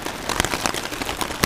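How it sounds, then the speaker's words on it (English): Steady rain patters densely on a surface nearby at a campsite, a continuous noisy wash with scattered sharper drops. "it's raining outside"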